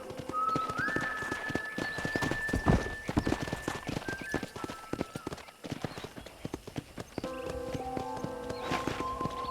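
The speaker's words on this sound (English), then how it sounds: "let's see if you can still ride a horse" Steady clip-clop of horse hooves in a quick walking rhythm from the video game Red Dead Redemption, with faint tonal music and a brief whinny-like sound over the top.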